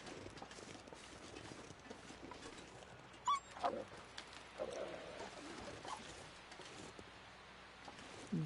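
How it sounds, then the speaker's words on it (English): Wolves in a video game growl low and intermittently, fairly faint against steady background noise, with a few sharper bursts near the end. "Just growling at me."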